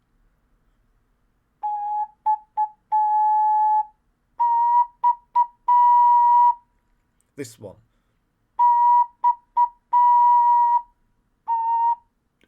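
Breathy notes from a tenor C3 ocarina played in short phrases, mostly one steady pitch with a faint airy whistle on top, with a brief spoken remark in the middle.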